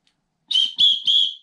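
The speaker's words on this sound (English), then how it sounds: "It's an Acme whistle." An Acme whistle from a survival kit is blown three times in quick succession, each a short, shrill, close blast.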